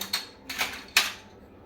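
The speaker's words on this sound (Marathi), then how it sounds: "हे हळद मीठ आपण छान आता यामध्ये मिक्स करून घेऊया" Three quick, light clicks as cut bitter gourd pieces are tossed with turmeric and salt, spaced about a third of a second apart, close and fairly faint with no voices.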